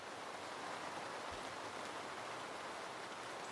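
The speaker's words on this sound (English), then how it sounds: "Gentle rain is my favorite." Soft, even rain hiss with no distinct drops standing out, faint and continuous throughout.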